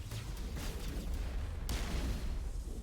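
Continuous gunfire and booming blasts rumble through a Mass Effect battle arena on Insanity difficulty, a dense, unbroken barrage of shots with a sharper crack partway through.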